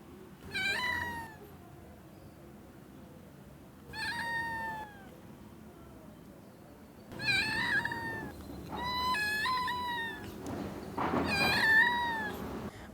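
An injured rescued kitten with a hurt leg and hip meows repeatedly, high and plaintive, in several drawn-out cries separated by short pauses, close up, with no voices.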